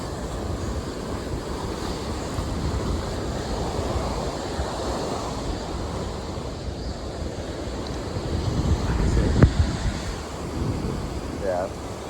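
Ocean surf surges and washes up a beach on the Outer Banks, a steady broad roar of breaking waves with wind buffeting the microphone and a louder rush of water near the end.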